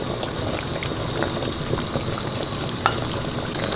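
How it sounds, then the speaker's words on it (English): Lamb stew boiling in a pot, a steady close bubbling and simmering hiss with small pops throughout, loud and continuous with no talking. "You can see the stew is boiling now."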